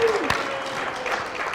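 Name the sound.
audience applause for host Chris Jacobs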